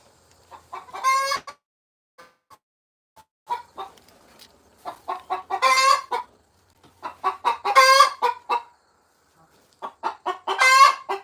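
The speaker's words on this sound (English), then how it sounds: "I'm gonna film this chicken because it just sounds wild" A chicken clucks and squawks in loud, close bursts, several calls grouped into phrases with short pauses between them and no talk.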